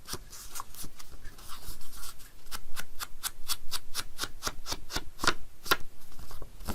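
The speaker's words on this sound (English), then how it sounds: "Fold this backwards and ink this edge too." Paper being folded and handled for a scrapbook page, a rapid series of crisp close creases and taps, steady throughout with no talking.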